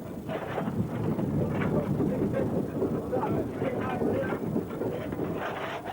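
A steam locomotive chugs along an Irish railway line toward Roches, its steady rumbling roar and rushing wind heard up close from the footplate, continuous and fairly loud throughout.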